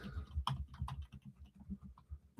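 Someone types on a computer keyboard with quick, uneven clusters of soft key clicks and a few sharper taps, fairly close and quiet, with no talking.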